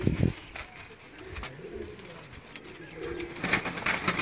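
Pigeons in a Sialkot loft coo softly nearby in low, throaty rolling calls, with faint background noise and a hint of voices.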